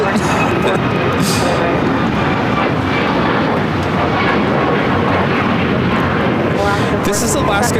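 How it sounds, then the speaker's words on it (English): Alaska Airlines Boeing 737 MAX 9 airliner taking off at LAX, a loud, sustained jet engine roar that fills the whole stretch, with people talking over it. "This is Alaska Airlines 465 taking off to Los Cabos on the MAX 9."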